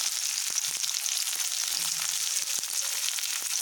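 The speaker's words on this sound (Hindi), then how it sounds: "तो यहाँ पे हमारा तेल अच्छे से गर्म हो चुका है उसमें हम डाल देंगे प्याज लहसुन और अदरक" Onion, garlic and ginger frying in hot oil make a dense, steady sizzle, close and even throughout, with a few faint clinks and scrapes of a utensil and no voices.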